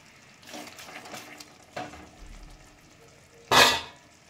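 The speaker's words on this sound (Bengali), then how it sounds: "এবার আমি ভালো করে কষিয়ে নিচ্ছি।" Spice masala with Kashmiri red chili powder being fried and stirred in a pan, soft intermittent scraping and light sizzle, ending in one loud sharp clatter.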